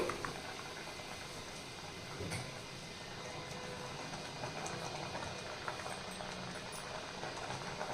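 Ridge gourd curry simmers in a pan with a steady, quiet bubbling that runs low and even the whole way through, with no voices over it.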